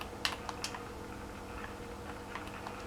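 A few quick, light computer-keyboard keystrokes tap out a team name for a Dirt 4 racing game, close and quiet, with scattered clicks over a faint background hum.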